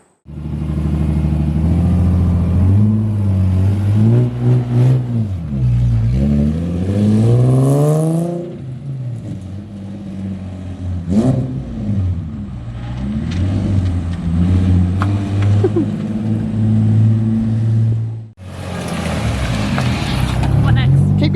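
A Nissan 350Z engine revs hard and holds near full throttle, its rising and falling harmonic whine loud and close, with people talking over it throughout.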